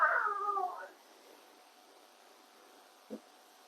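An orange cat's meow rings out loudly at the start, then fades to quiet room tone with one small soft sound near the end.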